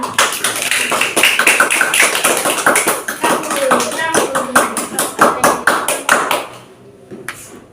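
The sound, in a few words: classroom children clapping hands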